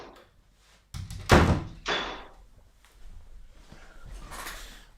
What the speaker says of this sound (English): I'm just going to close the door to the kitchen.